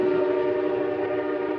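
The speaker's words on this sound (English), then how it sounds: "We open on an old train station." A train at an old station gives off a steady, loud tonal horn or whistle that holds an even pitch throughout, with no talk.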